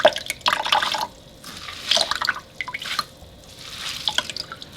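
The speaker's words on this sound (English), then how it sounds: "So I'm going to squeeze out all this water again." Water drips and trickles back into a kitchen sink as soaked food is squeezed out by hand, uneven bursts of splashing and dribbling, close and fairly loud, with no talking.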